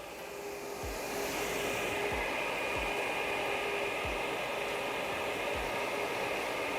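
A homemade exhaust fan for a laser engraving workshop runs with a steady, loud airy whoosh and hum up close, punctuated by soft low thumps at regular intervals.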